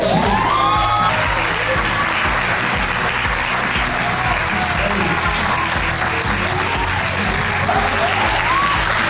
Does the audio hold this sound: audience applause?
yes